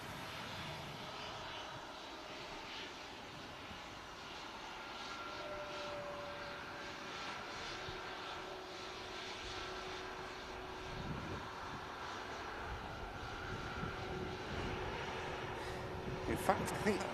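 A Turkish Airlines jet at Manchester Airport, a faint, distant engine rumble and whine that slowly swells toward the end.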